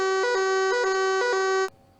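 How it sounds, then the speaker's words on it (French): A harsh, buzzing fire alarm tone pulses rapidly in short beats, loud and continuous, then abruptly stops. "Ce son, c'est une alarme incendie."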